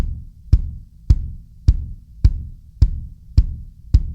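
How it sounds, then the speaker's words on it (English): Steady kick drum beats of a worship groove, evenly spaced about every half second, each a deep punchy thump with a short decay, played alone. "So the kick is a steady pattern throughout the whole groove."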